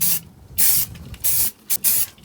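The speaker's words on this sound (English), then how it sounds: "I'm going to apply the Rust Reformer first" Rust Reformer paint hisses from a spray can in several short, loud bursts of uneven length, separated by brief silences, while parts on a Ford Pinto are coated.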